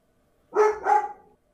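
A dog barks indoors in a house, two close, loud barks in quick succession that trail off into a brief whine, alone in an otherwise quiet room.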